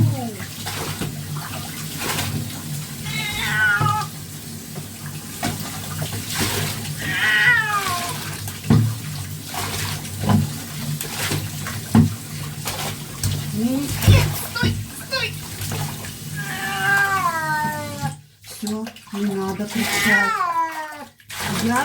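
A cat meows and wails repeatedly while water splashes and runs, with people talking over the cries.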